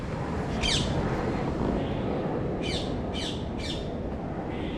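Bright green parakeets squawk from the trees at Kew Gardens, one harsh call early and then three quick squawks in a row, over a constant wash of outdoor background noise.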